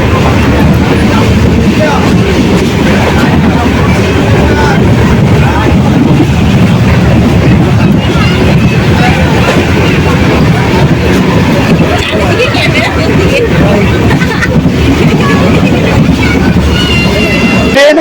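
The Tamralipta Express 12857 rolls into a busy station, its steady loud rumble and rattle filling the whole stretch with crowd babble mixed underneath.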